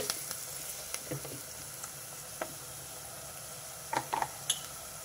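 Fenugreek leaves frying in hot oil for a broad bean curry give a steady, faint sizzle, with a few brief clinks and stirring scrapes near the end.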